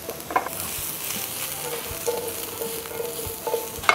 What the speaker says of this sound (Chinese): 这时候我们就起一个油锅，把这个菇放进。